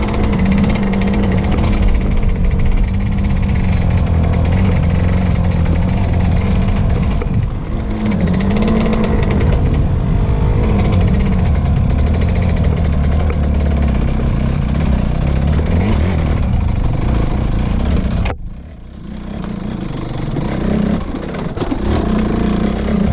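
A dirt bike's engine drones loudly and continuously in first gear while engine braking on a forest trail, with fluctuating revs and a brief sharp drop near the end.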